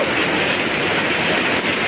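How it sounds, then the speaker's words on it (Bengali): Rain falls in Gopalpur, Tangail, a dense, loud, continuous hiss of steady downpour with no voices over it. "ওই যে দেখো কত সুন্দর বৃষ্টি নামছে।"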